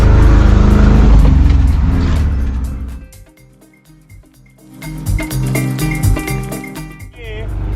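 A Volkswagen Kombi van engine labours loudly uphill in second gear with a low, rough, droning hum that dips partway through and then picks up again, and someone speaks over it.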